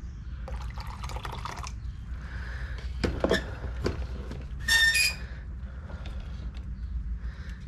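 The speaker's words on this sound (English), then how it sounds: "I'm going to put a little hot water" Liquid is poured in short bursts, with soft dripping and sloshing, a few clinks and a brief squeak, close by in a quiet room.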